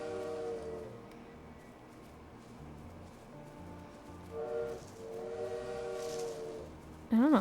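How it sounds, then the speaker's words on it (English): A train in the video game The Little Witch in the Woods sounds its whistle as it departs: two-tone steam-style whistle blasts, one short at the start and longer ones later, over a rhythmic background of game music. "isn't that actually the sound of the train?"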